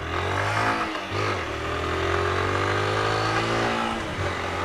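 A 2020 Honda CG 160 Fan motorcycle with about 6,000 km, its engine running loud and close, revving up and down with a mechanical noise from the motor.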